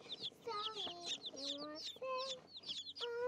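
Australorp and lavender Orpington chicks cheep and cluck in a close, busy chorus of short rising and falling peeps, overlapping and repeating quickly at low volume.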